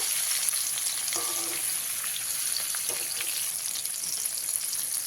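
Mixed vegetables frying in oil in a pan: a steady close hiss of sizzling with a few faint clinks of stirring, nothing spoken.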